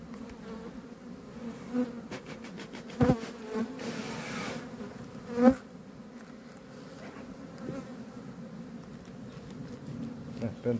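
Honey bees buzz around a beehive frame, a continuous close hum with a few louder bursts and handling knocks.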